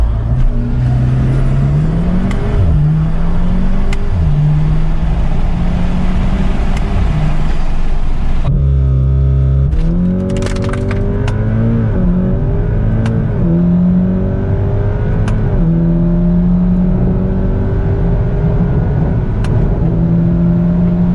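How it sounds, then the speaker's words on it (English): Volkswagen Golf R with Stage 2 Unitronic ECU and TCU tuning accelerating hard from 0 to 60, engine revving up loudly through several rising pitch sweeps with clear gear shifts, close and continuous. "Check out this comparison between the stock and Stage 2 0 to 60 times."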